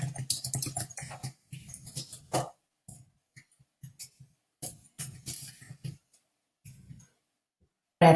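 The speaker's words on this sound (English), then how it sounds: "Once you are on your Google document, you can just start typing." Rapid clicking of computer keys in bursts, followed by sparser, irregular keystrokes with pauses, close and crisp.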